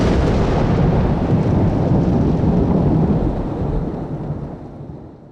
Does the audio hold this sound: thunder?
yes